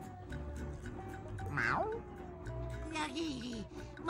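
A video game cat meows a couple of times, one drawn-out rising and falling call followed by a softer meow, over a steady background hum and faint music.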